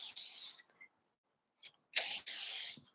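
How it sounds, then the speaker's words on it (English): Infinium hairspray sprayed onto a section of hair before curling, in two close, soft hissing bursts separated by quiet, with a faint rustle between them. "We're going to spray it onto the section of hair that we're going to curl."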